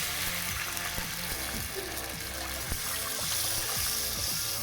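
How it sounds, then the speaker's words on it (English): Food sizzles and fries loudly in bacon fat with broth added, a dense crackling hiss with bubbling and occasional stirring clatter, close up and steady. "So you're going to want to fry those in the bacon fat until they start to slightly get brown."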